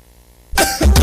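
A single loud, close cough from a man in a cough medicine commercial breaks abruptly out of near silence, followed by a second rough burst.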